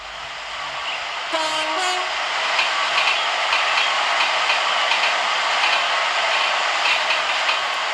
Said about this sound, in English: The train approaching the platform is a commuter service.